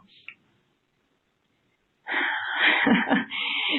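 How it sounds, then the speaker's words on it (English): A single forceful sneeze bursts out after a short faint sniff and a long pause, loud and close, with a hissing, snorting quality. "begin sneezing through your nose"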